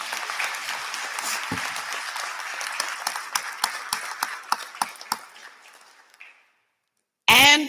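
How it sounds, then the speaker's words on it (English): Audience applause at a presidential investiture ceremony starts as a dense wash, thins into a few sharp separate claps and fades to silence before a sudden loud burst right at the end. "Give yourselves a round of applause."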